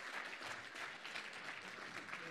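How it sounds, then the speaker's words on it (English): Continuous applause at a closing ceremony as speakers leave the stage, many hands clapping at a steady, moderate level. "Continue, applause, continuing while speakers are leaving the stage."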